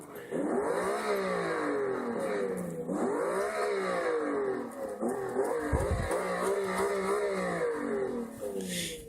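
A Miura V12 engine in a video game revs repeatedly, rising and falling in pitch through several gear-like sweeps, loud and close, with a brief low thump midway.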